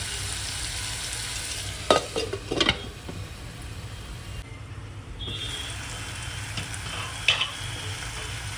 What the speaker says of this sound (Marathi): 1 मिनटं गॅसवर फ्राय होऊन देऊया, म्हणजे बटाटा शिजला जाईल